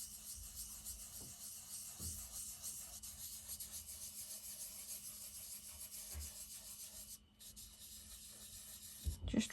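Powder rubbed by hand across a paper card, a steady soft scratchy rubbing that runs continuously at close range with a few light taps, no voices.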